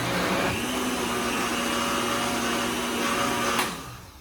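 A blender pulses while pureeing soup, a steady loud motor whir running almost continuously, rising briefly near the end before cutting off.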